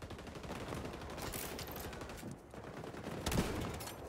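Rapid gunfire bursts from the XDefiant shooter game, with dense overlapping shots at a steady loud level and a sharper burst near the end.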